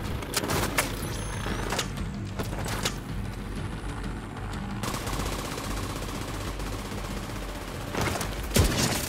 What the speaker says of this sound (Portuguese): Dois tiros, tipo John Wick.